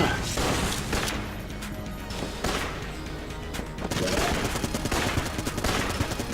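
Missile barrage in the Enter the Gungeon video game: dense, rapid bursts of blasts and gunfire-like crackles hammer almost continuously, with brief gaps between volleys, loud and close.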